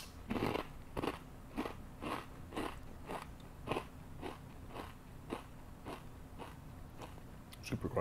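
Steady, up-close crunching as crispy ketchup-flavored potato chips are chewed repeatedly, each bite a sharp crackle, heard alone in a quiet room.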